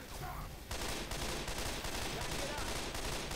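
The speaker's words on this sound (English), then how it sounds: "Shoot the barrels" Loud, dense gunfire blasts in Left 4 Dead 2 as players shoot at barrels. A rapid wall of shots runs almost unbroken for several seconds.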